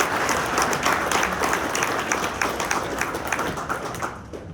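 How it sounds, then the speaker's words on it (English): A room full of people at a community breakfast honoring the military claps in a dense, even burst that slowly tapers toward the end. "Let's give them all a round of applause."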